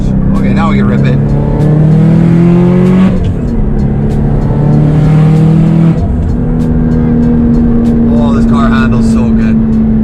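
Hard acceleration from a 500 hp Subaru STI with a rotated turbo and Tial Q blow-off valve, heard from inside the car as a loud, rising engine drone that climbs through the gears over a bumpy road, with people talking over it.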